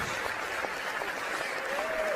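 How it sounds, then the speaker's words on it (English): Steady, dense clapping from a crowd fills the whole stretch at an even level, sounding like canned audience applause. "Thank you for that hearty applause from our fake audience."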